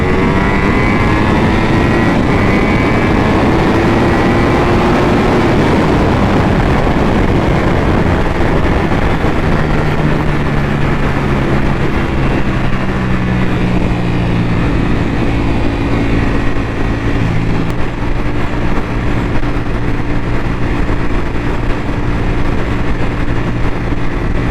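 A superbike motorcycle's engine at high speed near 160 mph, a loud continuous roar with rising and falling engine tones over heavy wind noise and no speech.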